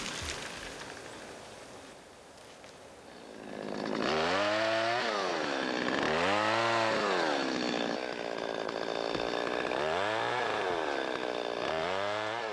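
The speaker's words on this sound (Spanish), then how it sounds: "aun cuando hoy ruja la motosierra donde antaño resonaban por el bosque los golpes rítmicos de las hachas" A chainsaw fells trees in a snowy Bohemian forest, starting faint and distant, then roaring loud and close with repeated rising and falling revving strokes as it cuts.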